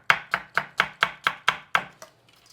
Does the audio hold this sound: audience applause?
no